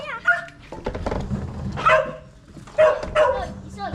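A dog barks and whimpers in short bursts close by, with people talking in Tagalog throughout.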